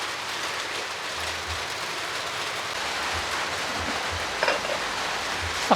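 Constant rain pours down on a mini farm, an even broadband hiss with a few scattered drips and light knocks near the end.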